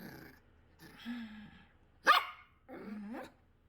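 Puppy barking nearby indoors: a soft whine, then one sharp loud yap, followed by another whimpering growl-like whine, in otherwise quiet surroundings.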